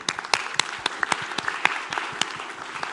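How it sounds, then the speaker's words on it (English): Audience applause at an education-technology startup pitch event, a scattered, moderately loud clapping from a modest crowd with distinct individual claps standing out. "So round of applause for you all"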